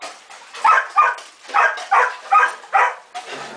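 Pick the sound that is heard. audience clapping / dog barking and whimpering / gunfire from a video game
dog barking and whimpering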